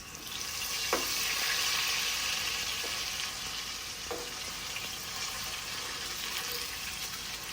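Potato chips fry in hot ghee with a loud, steady close hiss and bubble, broken by a few soft clinks of a utensil.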